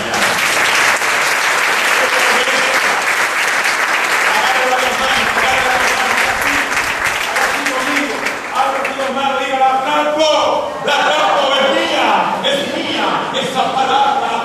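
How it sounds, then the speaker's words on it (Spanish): A church congregation applauds during a Spanish-language service, dense, loud clapping filling the room for a long stretch before thinning into scattered claps as a voice and music-like tones rise beneath it. "Eso merece un aplauso esta mañana."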